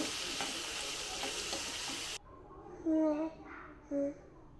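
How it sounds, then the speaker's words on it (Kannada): Green chilli, onion, tomato and coriander are added to a pan and fry for a potato sagu, with a loud broadband sizzle that cuts off abruptly midway, followed by quieter sounds and two short voiced bursts. "ಈರುಳ್ಳಿ ಟೊಮೆಟೊ ಕೊತ್ತಂಬರಿ ಒಟ್ಟಿಗೆ ನಾನು ಹಾಕೋತಾ ಇದ್ದೀನಿ ಇಷ್ಟು ಚೆನ್ನಾಗಿ ಫ್ರೈ ಆಗಬೇಕು"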